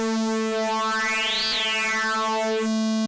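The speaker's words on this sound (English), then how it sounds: "Then we're going to change the type to one of the more aggressive digital waveforms, and that sounds like this." Korg minilogue xd VPM digital engine on an aggressive digital waveform: a single sustained bright, buzzy tone, steady and loud for about three seconds, with a swept metallic shimmer rising and falling through the middle before it cuts off.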